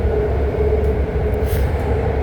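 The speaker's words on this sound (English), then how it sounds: "So we're on board a South Berryessa bound train." Steady low rumble and hum inside a BART train bound for South Berryessa, heading from San Francisco toward San Jose, continuous and fairly loud with faint higher rattles and no speech.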